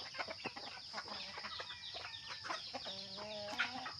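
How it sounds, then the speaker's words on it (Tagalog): Several chickens cluck and squawk close by, with overlapping calls in an irregular rhythm against a quiet background. "Ang daming manok."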